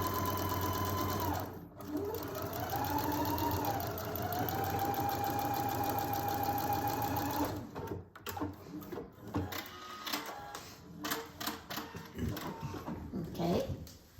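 A sewing machine stitching quarter-inch seams on a quilt block, a long steady whirring run of rapid needle strokes, then a pause followed by shorter stop-start bursts and clicks close by.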